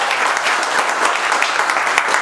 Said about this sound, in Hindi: और एक बार जोरदार ताली बजाइए